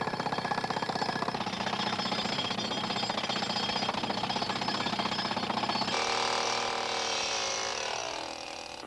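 A jackhammer pounds out a fast, steady mechanical rattle while digging for dinosaur fossils, loud and continuous for several seconds before its tone shifts and trails off slightly, with no voices.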